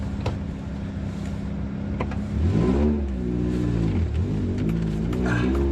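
A loud Honda Prelude project car engine, front end unbolted, idles roughly and then revs up to around 2,500 RPM several times, the pitch rising and falling in smooth swells close by.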